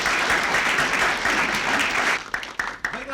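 A studio audience at an Indonesian comedy show breaks into full, steady applause that holds for about two seconds, then thins out to a few scattered, sharp claps.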